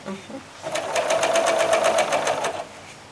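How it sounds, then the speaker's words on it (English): Close by, a sewing machine stitches through zipper tape and vinyl in a short burst of about two seconds, a rapid rhythmic chatter of needle strokes that rises and stops cleanly. "I go ahead and I stitch."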